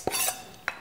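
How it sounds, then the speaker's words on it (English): Shrimp and pineapple chow being mixed in a bowl: a couple of short, close utensil clinks and scrapes against the dish, with a quiet pause between them. "And you mix that together"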